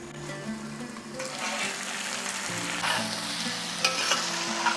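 Spice paste for a jackfruit curry frying on medium flame, a continuous close sizzle with stirring scrapes and a low steady hum beneath, bursts of scraping near the end, no speech.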